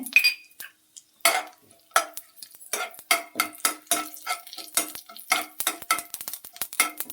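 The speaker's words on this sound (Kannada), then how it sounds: "ಸಾಸಿವೆ ಜೀರಿಗೆ ಎಲ್ಲ ಹುಟ್ಟುತ್ತಿದೆ" Mustard seeds, cumin, black pepper and a dried red chili crackle and pop in hot oil in a pan. The sharp snaps come in quick, irregular bursts, close and fairly loud, with some metallic clinks of a utensil mixed in.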